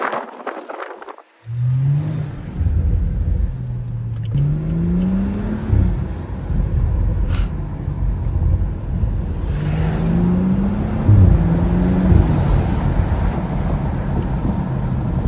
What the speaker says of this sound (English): The pop sounds so good by the gas station.